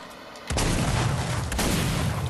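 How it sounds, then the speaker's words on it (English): A grenade goes off in Fortnite, a sudden loud broadband blast after a short quiet lead-in, followed by a second thump about a second later as the roar decays and lingers. "Oh, that's not a good grenade."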